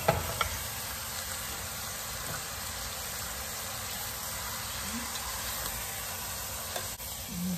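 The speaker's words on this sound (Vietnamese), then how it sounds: "Để vô mình xào cho nó thơm cái bao tử." Pork stomach stir-frying in a hot pan, a steady loud sizzle running throughout with a few light scrapes of stirring, close up.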